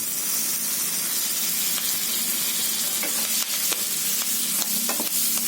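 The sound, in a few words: frying ground spices and green chilies in oil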